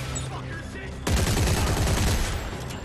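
Dense burst of rapid gunfire from the video game Dead Space 3 erupts after a second of quieter game ambience, sustained and loud with overlapping shots; a voice speaks faintly underneath.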